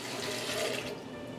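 One and a half cups of water poured over soaked almonds in a blender jar for almond milk, a steady close splashing pour with no talking.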